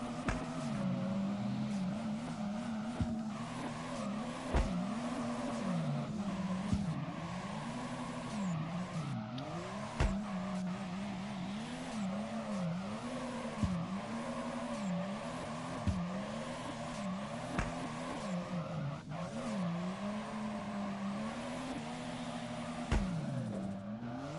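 A Nissan S15 drifting in first gear in the DriftCE racing game on PS5, with a continuous engine drone that rises and falls in regular waves, faint tire noise and occasional clicks, steady and without talk.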